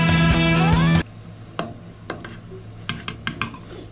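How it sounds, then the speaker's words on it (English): Pasta being whisked together with salt, pepper and seasonings in a bowl. A sustained tonal sound fills the first second, followed by sparse, sharp clinks of the utensil against the bowl at uneven intervals, with no voices. "we're going to start adding in the pasta and whisking it together"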